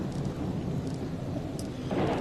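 Thunder rolls as a low, broad rumble with rain, swelling again near the end. It sounds steady and moderately loud in a remote subsistence homestead setting, where generators are also running.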